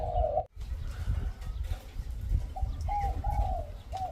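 Several soft dove coos, low and hollow, sounding in a short series over a steady background rumble.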